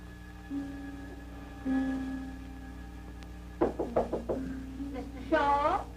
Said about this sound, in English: You told me to knock when it got dark tonight in case you was asleep.